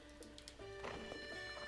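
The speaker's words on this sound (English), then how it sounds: "There's my horse." A horse in Zelda: Breath of the Wild in Eldin Canyon gives a faint whinny with soft clip-clop hooves under steady game music and ambience.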